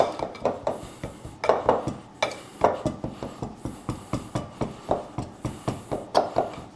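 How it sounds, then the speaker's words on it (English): A pastry blender works butter into flour in a bowl, making a brisk, regular run of sharp metallic taps and clinks against the bowl, roughly three or four strikes a second, close and clear with no talking. "just keep blending the butter with the flour"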